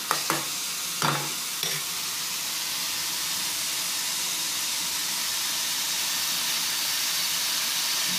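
Kakrol (spiny gourd) vegetable sautéing with spices in a pan, a steady broad sizzle and hiss with a few brief stirring scrapes near the start, no talking.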